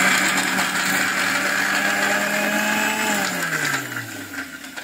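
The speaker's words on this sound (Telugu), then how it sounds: "వాటర్ పోసుకొని ఉప్పును జీలకర్ర వేసుకొని వాటర్ పోసుకొని మిక్సీ పడతాను ఫ్రెండ్స్" Mixie grinder blending chutney with water, cumin and salt: a loud, steady whirring drone that holds for about three seconds, then winds down with a falling pitch as the motor stops.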